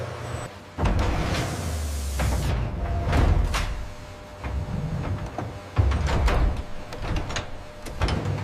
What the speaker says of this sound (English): The retort doors seal hermetically